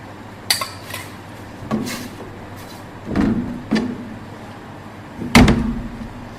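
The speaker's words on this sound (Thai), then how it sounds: "เราใส่หมูบดลงไปก่อนเลยค่ะ เครื่องปรุงทุกอย่างใส่ไปพร้อมกันให้หมดเลยนะคะ" Ground pork and seasonings go into a pot for a Thai dip, with several separate clattering knocks of utensils against cookware spread out and fairly close, and no talking.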